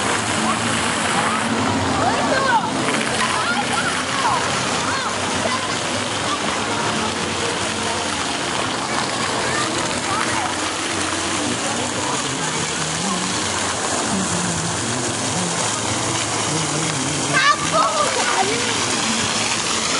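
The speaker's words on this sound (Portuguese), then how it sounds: "E aqui os meninos brincando com a água, a maior alegria." Children splashing and playing in water at Pracinha Mestre Orlando in Caldas Novas, Goiás, a loud, steady wash of spraying and splattering water that runs throughout, with voices mixed in.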